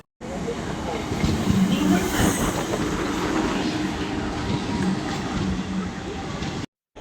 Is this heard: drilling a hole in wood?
no